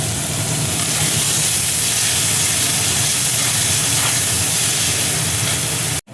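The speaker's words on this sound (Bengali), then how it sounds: "থেতো করা রসুন দেখো দিয়ে দিচ্ছি, পেঁয়াজ কুচি দেখো দিয়ে দিচ্ছি।" Chopped onion and crushed garlic sizzle loudly in hot oil, a steady dense hiss that holds throughout and cuts out abruptly right at the end.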